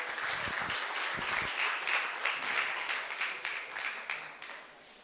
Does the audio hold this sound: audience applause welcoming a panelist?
yes